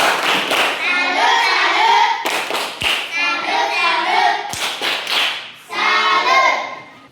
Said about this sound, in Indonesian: mari kita tepuk salut untuk kelompok 3